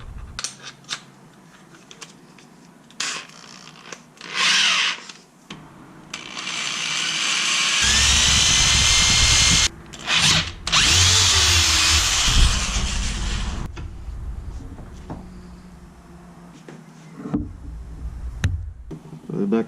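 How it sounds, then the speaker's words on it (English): A power drill with a 3/8 drill bit bores through a metal shaft in a Veloster interior: a loud sustained whirring grind for several seconds with brief stops, amid handling clicks and rustles. "3/8 drill bit. That's enough to go through the shaft."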